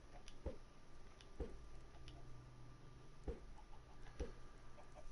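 Chickens in the game Minecraft give soft clucks: four short, evenly spaced clicky pops over a faint steady background hum, with no talking.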